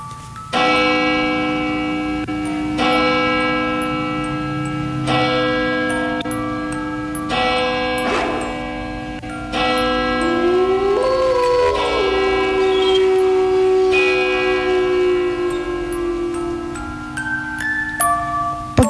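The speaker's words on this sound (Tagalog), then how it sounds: "Pagkatapos tumunog ng kampana" A church bell rings in a radio drama sound effect, with repeated resonant strikes over a sustained tonal bed, loud and close, with no one talking.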